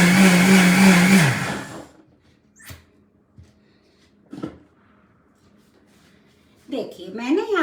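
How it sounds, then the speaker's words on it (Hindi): Kitchen mixer grinder grinding corn kernels with water for soup, a loud whirring motor for about a second and a half that cuts off, followed by quiet clatters and handling. "मिक्सी की आवाज होगी थोड़ी सी।"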